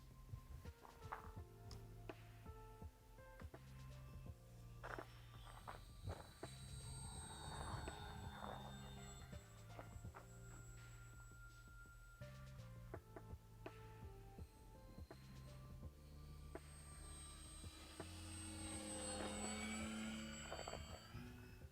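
FMS KingFisher RC model plane with a DJI O4 Air Unit Pro flying on its maiden flight, a steady motor drone with shifting pitch running throughout, loud and continuous with clicks and ticks over it.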